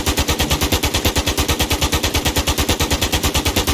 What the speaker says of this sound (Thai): เอานะยิงเลย โอเคยิง